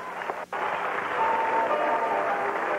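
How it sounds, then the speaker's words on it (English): Arena crowd at a 1982 women's gymnastics championship applauds steadily at moderate distance while background music plays beneath, a brief dip in the clapping early on. "You hear the applause there and the music."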